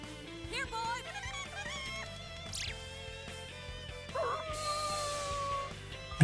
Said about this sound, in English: that dog is mad as hell